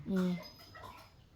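A dog whimpers in a brief, high whining cry indoors, loudest at the start and fading away, with faint household noise behind.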